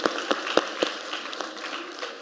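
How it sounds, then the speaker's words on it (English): Scattered audience clapping at a panel discussion, a few distinct sharp claps early that thin into a light, fading patter. "So you get 2 rounds of applause."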